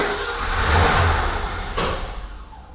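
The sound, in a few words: BMW E21 323i engine cranking, starting and backfiring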